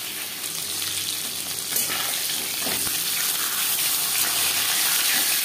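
Fish frying in a pan, producing a loud, dense, even hiss and crackle of hot oil that holds steady throughout with no voices.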